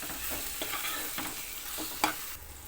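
A spice masala with coriander powder and salt is stirred and fried in a pan: a soft continuous sizzle broken by several scraping stirring strokes, close by and with no talking.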